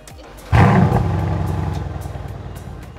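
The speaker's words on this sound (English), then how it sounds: "It's an outstanding performance car with a soundtrack of a V8" A Mercedes-AMG 4.0-litre biturbo V8 fires up at a New York auto show with a sudden loud roar, then settles into a deep, burbling idle with rhythmic pulsing that slowly fades over a few seconds.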